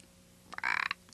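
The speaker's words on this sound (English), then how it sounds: "an old ugly toad hopped through the open window and onto the table" A single toad croaks once up close, a short rattling burst of rapid pulses standing out against a quiet, faintly hissing background.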